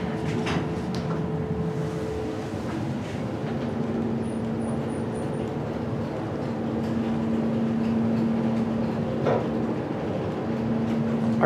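A steady hydraulic motor hum with a low drone runs continuously under faint room noise inside a Montgomery KONE glass elevator at Macy's Maplewood Mall, its replacement motor droning evenly with no talk.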